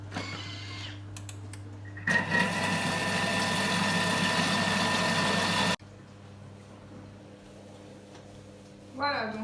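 A kitchen robot blends cocoa crêpe batter at speed 5, a loud, steady motor whir with a mechanical hum that cuts off abruptly partway through, leaving a quieter hum behind.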